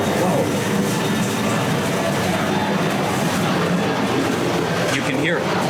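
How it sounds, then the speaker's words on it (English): Loud, continuous low roar of a jet airplane passing overhead as it comes in to land near a street food spot in Chiang Mai, filling the whole stretch, with a brief exclaimed word from a nearby person. "There are airplanes landing again."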